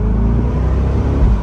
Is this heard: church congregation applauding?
no